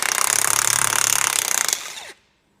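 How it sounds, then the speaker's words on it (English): An impact gun hammers rapidly on a seized 15mm nut on a Ford Fiesta wishbone suspension arm bolt, a loud, fast rattling burst of about two seconds that cuts off abruptly. "use a gun to get off the nut from this side"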